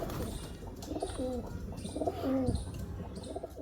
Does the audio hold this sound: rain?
no